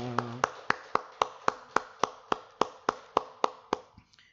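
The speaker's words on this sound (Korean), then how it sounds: "하나님 영광의 박수를 드리겠습니다." A church congregation at a Sunday worship service claps in unison, a steady rhythmic series of about fourteen sharp, evenly spaced claps that ends abruptly with no talk over it.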